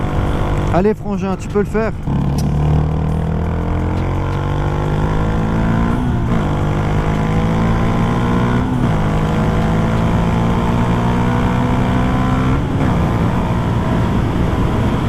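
A Yamaha MT125 motorcycle accelerating hard, its engine note sweeping up in pitch over and over as it climbs through the gears, loud and close, with a voice calling out briefly near the start.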